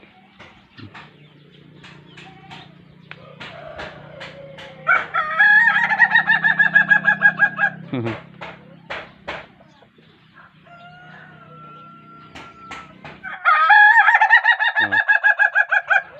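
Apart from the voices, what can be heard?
laughing chicken breed crowing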